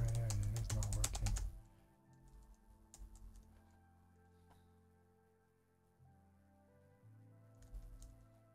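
A quick, close flurry of computer keyboard clicks is heard while someone codes in PureScript, then the tapping thins out into a quiet, faint background.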